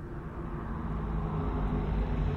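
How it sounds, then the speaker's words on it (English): A low, steady engine rumble holds throughout, like a car idling or rolling slowly nearby in the video game Cyberpunk 2077, with no voices. "Car. At this hour, in this place?"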